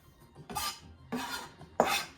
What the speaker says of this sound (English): I'm just chopping up those stems that I pulled out nice and finely